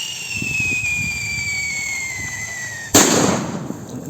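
Cavite pyro fireworks test firing: a steady high whistling squeal streaks for about three seconds, then a sharp loud burst erupts and crackles as it fades, heard close in open air.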